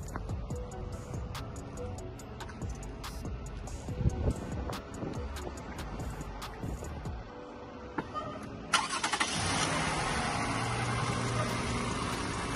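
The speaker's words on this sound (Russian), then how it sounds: "Ну вот как работает двигатель." Engine of a 2015 Toyota Venza idling after being started, a steady low hum with scattered clicks and handling noises, then a broader, louder rushing layer joins in near the end.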